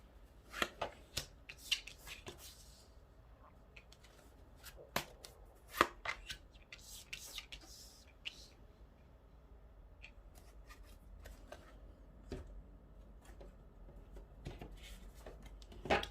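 Tarot cards are shuffled and drawn by hand, giving sharp irregular riffles and taps that come in bursts, then a quieter stretch of soft card handling and light rustling.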